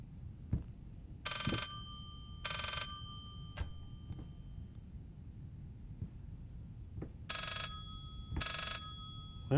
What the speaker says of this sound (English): There's ringing over here somewhere.